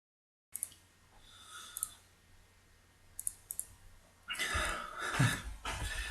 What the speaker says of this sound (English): I need a cough, hang on